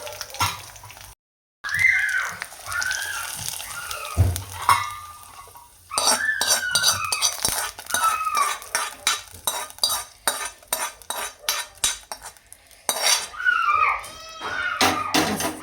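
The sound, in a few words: tempering stirred into coconut green chutney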